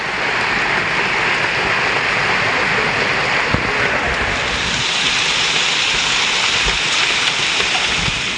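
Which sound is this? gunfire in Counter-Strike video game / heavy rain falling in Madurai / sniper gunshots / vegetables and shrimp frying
heavy rain falling in Madurai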